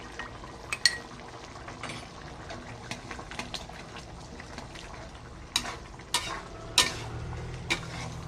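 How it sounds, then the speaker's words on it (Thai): Tapioca starch being stirred into a sauce to thicken it: scraping, clicking spoon strokes against a pan over a soft bubbling simmer, close and moderately quiet, with occasional sharper knocks. "แล้วก็ใส่ไปก็กวนแป้งด้วยนะครับ"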